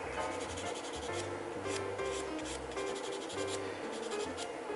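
Sandpaper rubbed against a plastic Gunpla model part, an HG Gyan kit: a steady close scratching rasp in quick back-and-forth strokes, alone and without talk.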